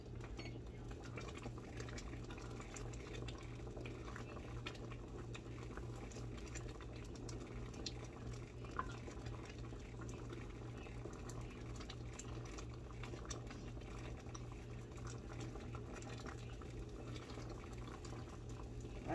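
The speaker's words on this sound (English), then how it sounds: "I thought that you had to boil and stir it for more than a minute." Liquid boiling in a pot on a kitchen stove, a faint, steady low bubbling and rumble that runs on unbroken, with light background clinks and no talking.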